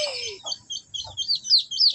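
Young F1 chickens chirp close by during vaccination, a run of sharp, high peeps and rising tweets that come in quick bursts over faint background noise, with no talking.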